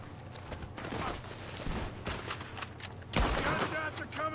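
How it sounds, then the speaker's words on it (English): Gunfire in Red Dead Redemption 2 coming from a barn, a series of sharp, irregular shots at mid distance, some clustered in quick bursts, mixed with in-game talk. "Gunshots are coming from that barn."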